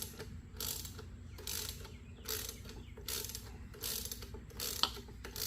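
Ratchet turning out bolts on an outboard motor's lower unit, a steady run of fast clicking bursts repeating over low background noise.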